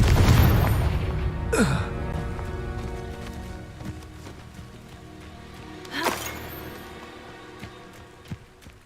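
The Confringo fire spell explodes in the video game Hogwarts Legacy as two sharp blasts, one near the start and another around six seconds, with a rumbling low tail and scattered smaller impacts and no speech.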